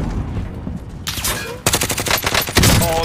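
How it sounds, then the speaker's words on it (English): Gunfire in the shooter game Call of Duty: Modern Warfare, loud and close: a quiet lead-in, then a sudden rapid automatic burst, and a second long volley of fast shots after a brief pause. "There's a guy shooting behind you."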